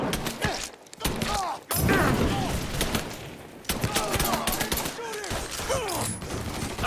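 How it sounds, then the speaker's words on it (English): Heavy gunfire in the video game Mafia III: bursts of rapid automatic shots and scattered single cracks fill the scene almost without pause, loud and close, with a few brief drops between volleys and excited voices shouting over the shooting. "He's shooting the shit out of me!"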